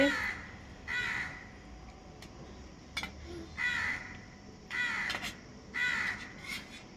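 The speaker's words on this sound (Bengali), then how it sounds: "কাক ডাকছে, শুনতে পাচ্ছিস?" A crow caws repeatedly, about five or six calls in an uneven rhythm, fairly clear against a quiet background.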